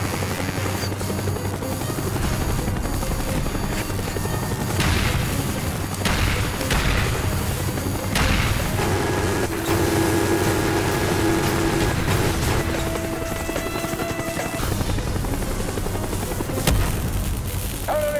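A Hind attack helicopter in a Call of Duty video game roars steadily throughout, with scattered booms and gunfire bursts over its continuous rotor drone, and no voices are heard.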